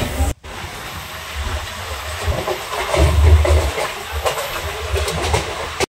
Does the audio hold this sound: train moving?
yes